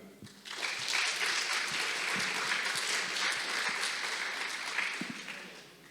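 A concert audience at a jubilee performance gives sustained, dense applause, many hands clapping together in a steady, fairly distant wash that holds for several seconds.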